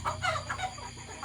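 A chicken clucks in a short, quick series of close, fairly loud clucks, with low background noise beneath.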